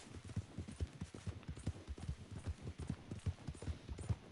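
Horse hooves in a video game clatter in a fast, regular galloping rhythm, close and moderately loud, with a faint wash of ambient sound beneath and no talk.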